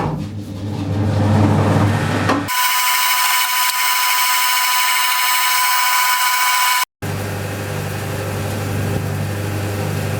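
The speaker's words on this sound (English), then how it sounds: "I'm sure you can hear the lathe going in the background" Steady mechanical drone of a metal lathe running, a low hum at first, then a harsh bright grinding whine that holds, cuts out briefly, and resumes.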